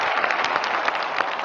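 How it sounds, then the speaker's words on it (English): Applause sound effect triggered by an applause button during a sports talk show, a steady, moderately quiet patter of clapping with a slightly thin, band-limited tone, without talk. "Hit the applause button."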